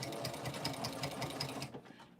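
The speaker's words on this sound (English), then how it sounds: "Now I'm going to take this back to my machine" A sewing machine stitches a quilt binding in a quick, steady run of needle strokes, close and fairly quiet, stopping abruptly near the end.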